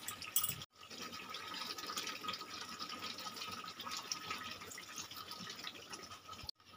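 A little water pouring into a chicken curry in the pot, a steady splashing, trickling flow lasting several seconds, close and moderately quiet, with a brief clatter at the start.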